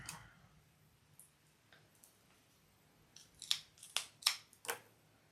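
Sharp plastic clicks of sewing clips snapping onto fabric for a bucket bag, a few faint ones, then a quick close cluster, with no talking.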